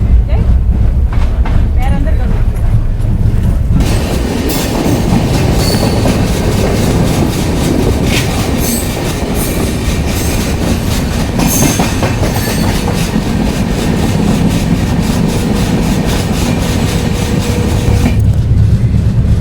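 Mewar SF Express train running soon after departing Gosunda, a loud continuous rumble with rhythmic clickety-clack of wheels and occasional squeals, heard from inside the moving train.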